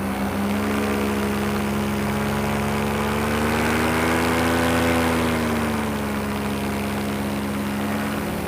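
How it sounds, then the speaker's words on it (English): A powered paraglider's motor running steadily and loud, a continuous droning buzz with slight pitch swells as the throttle shifts, close and unbroken with no talk. "I'll kill the motor and hook in for a landing."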